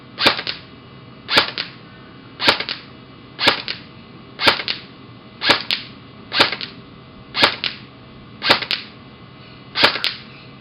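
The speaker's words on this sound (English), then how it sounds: "so for this test we're going to be firing 15 shots in fully automatic." A VFC SCAR-L airsoft rifle shooting BBs, heard as about ten crisp, evenly spaced sharp cracks, each with a short mechanical rattle, close and loud with no talking.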